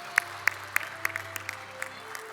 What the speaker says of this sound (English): A big round of applause to all of you in the room.